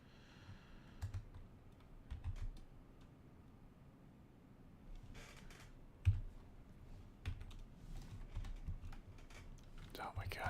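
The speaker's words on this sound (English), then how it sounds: "I need to get better at typing" Typing on a computer keyboard while coding a counting exercise, with irregular bursts of close key clicks and a few heavier keystrokes running under quiet muttered speech throughout.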